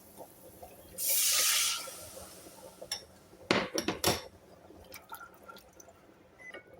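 A short burst of water pours steadily for under a second, followed by a few sharp metallic clinks of a pan and utensil, in a quiet room.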